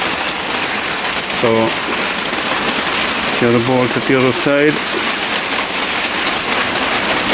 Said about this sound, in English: It's lashing rain as usual